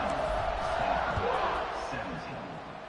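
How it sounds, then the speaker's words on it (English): A college football video game stadium crowd roars steadily at kickoff, a broad, loud wash of cheering that eases slightly toward the end, with a commentator talking over it. "They're set to kick it off, and this crowd now ready to get behind them."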